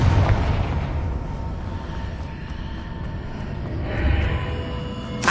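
A Confringo blasting spell detonates in Hogwarts Legacy, a loud, near booming blast that rumbles and decays, followed by a second swelling burst a few seconds later.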